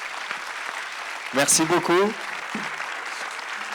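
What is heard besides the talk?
applause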